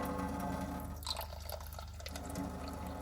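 Water gushes out of the bottom of a filter on a solenoid valve in a water leak detection system, a steady close splashing and trickling flow that keeps running throughout with faint dripping on top.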